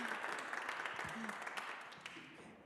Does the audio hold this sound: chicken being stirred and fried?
no